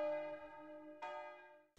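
A single church bell in the Lorgues bell tower, a bell installed in 1623 and hung in a locally wrought-iron campanile, rings out. Two clear strikes sound, each decaying into a long, ringing hum, then a third begins at the end.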